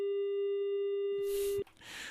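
A steady telephone busy tone sounds after a dropped caller on a morning radio show's phone line, holding clean and loud for about a second and a half before cutting off into noise and a brief voice.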